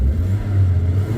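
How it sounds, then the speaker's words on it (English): A Mk1 Audi TT with a boost leak idles and is blipped on the throttle, a close, loud low engine rumble that swells briefly and settles, with no other sounds. "throttle in and you can hear it. There's a little bit of a boost leak"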